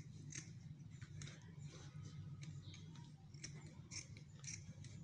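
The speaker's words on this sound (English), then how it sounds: "try as much as possible to pass your scissors inside, and you cut this net inside, cut everything out" Scissors cut through tulle net in a run of faint, close, quick snips and crisp rustles, heard alone without talk.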